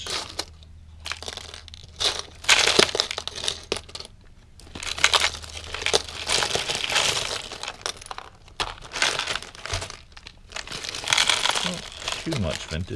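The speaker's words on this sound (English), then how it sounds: "These are glass beads." Glass beads rattle, clink and scrape as hands sort through a barrel of jewelry, giving bursts of crunchy clattering separated by short pauses, close up and fairly loud.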